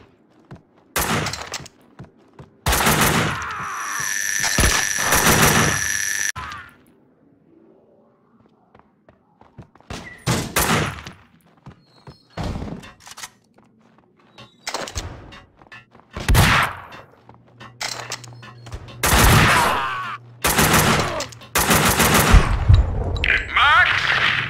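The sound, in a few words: gunfire in the video game Max Payne 2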